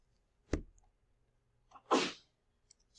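A brief intake sound is followed a moment later by a single sharp sneeze, close and distinct in an otherwise quiet lecture room.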